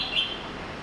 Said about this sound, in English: The birds seem really happy.